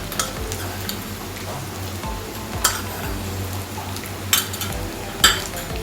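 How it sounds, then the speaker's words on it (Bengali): Sesame seeds and chicken frying together in a pan, a steady low sizzle with occasional sharp clinks of a spatula or spoon against the pan, close and without talk. "এবার তিলটাকেও আমি সামান্য একটু সময় নিয়ে ভেজে নেব"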